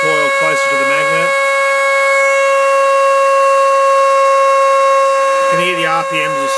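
A homemade pulse motor runs with a steady, high electrical whine and hum throughout. Someone speaks briefly at the start and again near the end.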